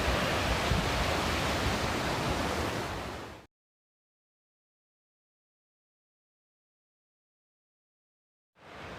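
A fast-flowing creek rushes loud and broadband beneath a bridge, cutting out to silence for several seconds and then returning.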